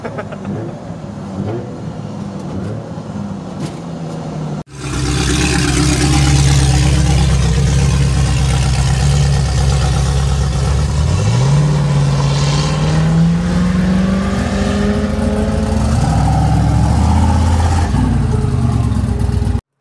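Drift car's engine, freshly repaired after a timing fix, starts abruptly after a quieter stretch, then runs loud and close with a steady idle, a rising rev partway through and fluctuating throttle afterward.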